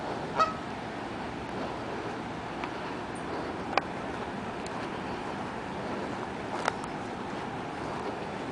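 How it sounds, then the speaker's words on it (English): Canada geese honking a few times amid steady wind and water noise, the calls sharp, brief and somewhat distant. "we're going to see Canada geese"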